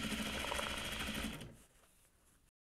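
A sewing machine runs fast and steady while sewing a corset, a close, loud mechanical whir that slows and fades after about a second and a half before stopping.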